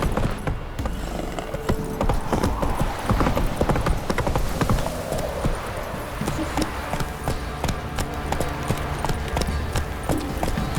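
Roach the horse gallops in The Witcher 3 on Skellige, with steady, rapid clip-clop hoofbeats that stay close and loud throughout, mixed with busy game ambience.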